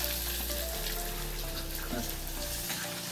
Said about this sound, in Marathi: प्याज को भूनेंगे अच्छे से, लाल लाल होने तक.